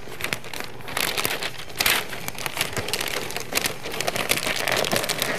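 Crinkling and rustling sounds continue as the sides of a piece of crafted material are folded together by hand. The crackles are close and steady, with no talking.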